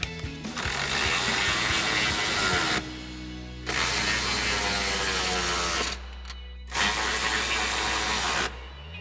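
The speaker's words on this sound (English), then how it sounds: "we can tighten down our main brackets. For that, we'll need our 13mm socket." A ratchet wrench with a 13mm socket tightens the step bar mounting brackets on a Ford F-150, cranking in long, loud continuous bursts broken by short pauses.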